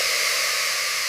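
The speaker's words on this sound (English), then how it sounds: "Hear that sizzle?" Chopped tomatoes for pizza sauce sizzle in a hot pot, a loud, steady, close hiss with no break.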